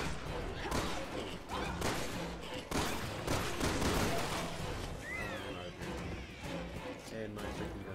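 Gunfire in Resident Evil 6 during a zombie fight: bursts of shots and thuds crack out repeatedly over several seconds, fairly quiet overall, with a person talking over the action.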